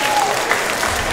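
An audience claps steadily for a contestant at a Chinese singing competition final in Christchurch, a dense, even burst of applause with faint speech underneath.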